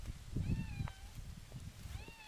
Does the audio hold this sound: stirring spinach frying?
no